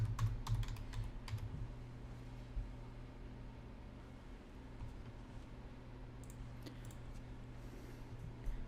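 Typing on a computer keyboard while writing an email: a quick run of clicking keystrokes up front, then lighter scattered taps over a low steady hum, close and fairly quiet.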